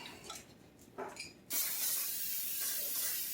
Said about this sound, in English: Put a little bit of spray in there.